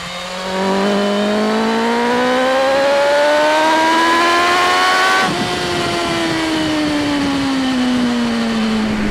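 A BMW M 1000 R motorcycle at full throttle, its engine note climbing loud and steady through the revs, then a quick dip at a gear change before pulling hard again, constant and close.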